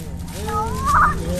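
A chicken lets out a brief, rising squawk outdoors in a muddy rural field in Vietnam's Mekong Delta, heard fairly loud over a steady low background rumble.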